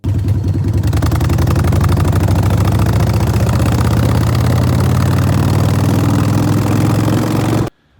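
A motorcycle engine idles close by with a steady, throbbing low rumble and a constant mechanical chatter, then cuts out abruptly just before the end.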